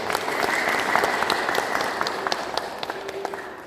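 A church congregation claps hands in a dense, sustained wave of applause, loud and close, with faint voices mixed beneath the clapping.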